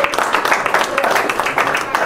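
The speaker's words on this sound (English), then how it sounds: "let's hear it by applause if you're over 30, over 45" Audience applause at a show at VFW Post 1679 in Ventura, California: a modest, steady patter of clapping from a small crowd, with a voice talking over it the whole time.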